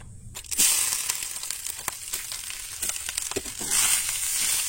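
Soy chunks roasting in a little oil for a Goan chana ross, giving a steady close sizzle with crackles and scraping stirs throughout and a brief quiet moment at the start.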